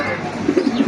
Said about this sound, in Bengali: আর এইখানে আছে এক জোড়া ক্যাপাচিনো